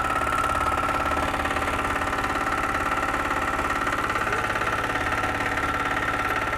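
Diesel walk-behind tractor engine idles steadily and loudly, a close, even knocking throb with constant vibration and no talk.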